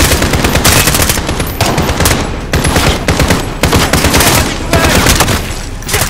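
Rapid, sustained machine gun fire in Call of Duty: Modern Warfare, loud and continuous with dense overlapping bursts and brief dips between volleys.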